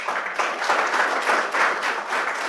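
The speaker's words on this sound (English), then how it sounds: "Let's give him a round of applause." Audience applause at a Classroom of the Future Foundation presentation event, a steady burst of dense clapping from a room of people, fairly close and sustained throughout.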